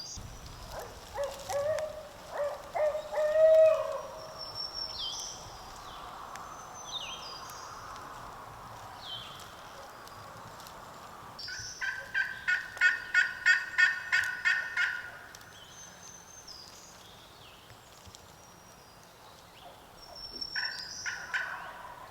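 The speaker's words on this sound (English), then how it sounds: "Bird's gobbling good, but we can't really tell which point he's on" A wild turkey gobbles in public-land woods in Virginia during a hunt, several bursts of rapid rattling gobbles at moderate distance separated by quiet stretches, with faint background bird calls.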